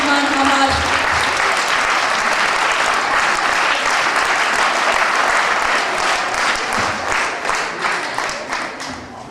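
Large crowd at a community anniversary celebration applauds its community head, loud continuous clapping with some voices mixed in, tapering toward the end.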